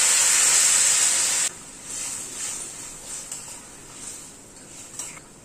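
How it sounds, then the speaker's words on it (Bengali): Hot water pours into a pan of potato curry, a loud rushing hiss for about a second and a half that stops abruptly. Softer sizzling and bubbling from the pan follow, with a few light clinks. "এবার গরম জল অ্যাড করে দিচ্ছি।"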